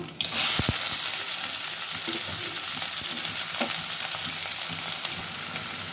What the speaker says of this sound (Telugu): ఆనియన్స్ వేసేసుకుంటున్నాను.